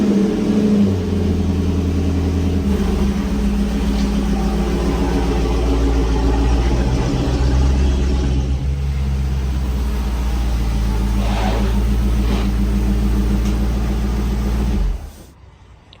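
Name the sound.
2006-10 Dodge Charger engine while turning the car around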